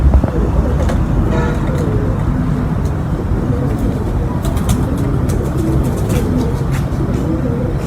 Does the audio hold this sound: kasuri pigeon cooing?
yes